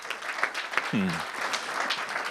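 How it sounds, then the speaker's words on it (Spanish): Brief, scattered clapping from a small audience at an acoustic music concert, with a voice breaking in partway through. "fuerte aplauso, claro que sí, para él"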